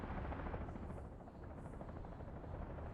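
Helicopters in the Workers and Resources video game used to export vehicles; a continuous, dense rotor and engine rumble runs steadily and fairly quietly throughout, with no pauses.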